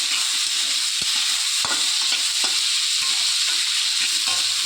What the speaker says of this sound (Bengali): আমের টুকরোটা একটু নেড়ে চেড়ে নেব